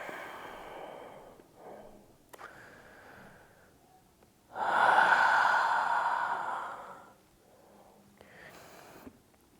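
A long, breathy exhale during vinyasa yoga, soft and close, with quieter breathing on either side of it.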